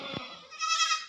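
Young goat kids bleating in a quick run of high, wavering calls, close and fairly loud, with no talking.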